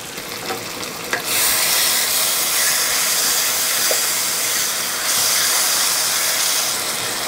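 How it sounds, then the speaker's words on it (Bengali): Masala spices for mutton kosha fry in a pan over medium heat, a steady close sizzle and hiss that swells after a soft clank, with occasional stirring scrapes. "মিডিয়াম হিটে মশলাগুলোকে জাস্ট 3-4 মিনিট মতো আমি কষিয়ে নেব।"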